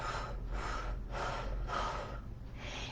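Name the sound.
exhaling during a breathing exercise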